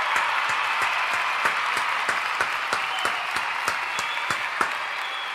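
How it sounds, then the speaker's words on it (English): An audience gives a sustained round of applause for a guest on a wrestling review show, a thick, steady wash of many hands clapping with some sharper, regular claps standing out, loud and continuous. "Get another round of applause for Corey."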